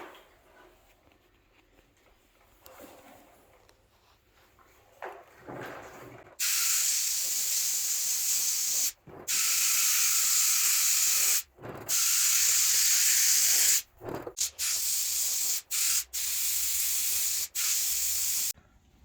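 A spray gun lays paint coats onto a truck frame during a frame stretch build, with loud sustained hissing bursts. Each burst lasts a few seconds and is broken by short pauses, close up with no talking.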